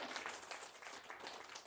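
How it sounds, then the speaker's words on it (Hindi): Steady applause from an audience at a company branch event in Delhi, a dense, continuous wash of clapping that holds level throughout without pause. "तो एक बार हमारी पूरी टीम के लिए जोरदार तालियां बजा दीजिए।"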